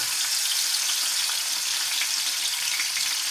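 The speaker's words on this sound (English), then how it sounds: "I'm going to go ahead and get the steak in the pan. And that's what you want to hear." A filet mignon steak sizzling in a hot pan, giving a loud, steady crackling hiss with fine spattering pops, close up and continuous with no voices.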